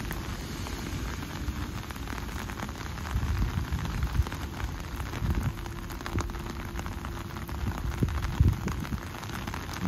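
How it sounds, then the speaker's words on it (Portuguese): Heavy rain pours steadily during a flood in Itajaí, Brazil, a dense continuous hiss of drops on surfaces close by, with low rumbling noise underneath and no talking. "Muita chuva mesmo."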